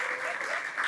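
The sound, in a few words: audience applause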